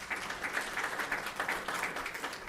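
Applause from the audience at an academic conference session on syndromic diagnosis of infectious diseases, a steady dense wash of clapping that holds at an even level throughout, with no voices over it.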